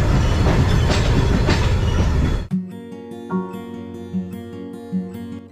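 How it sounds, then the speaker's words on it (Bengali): The Coromandel Express pulls into Chennai Central station: a rush of broad rumbling noise gives way to a steady low engine hum with regular metallic clanks and clicks as the carriages roll slowly along the platform. "আমাদের ট্রেন প্রায় চেন্নাই সেন্ট্রাল স্টেশনে ঢুকছে"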